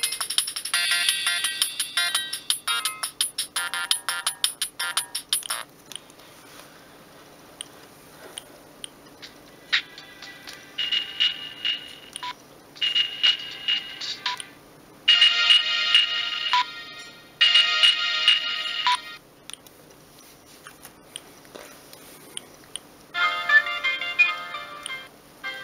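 Standard ringtones and theme sounds on a Siemens S65 mobile phone play one after another: bright electronic melodies in bursts, some tinkling and rapid, others sustained, separated by short pauses and heard alone.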